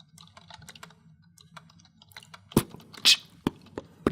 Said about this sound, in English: Right, sorry, I'm typing.